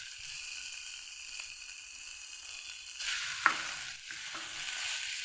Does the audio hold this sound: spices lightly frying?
yes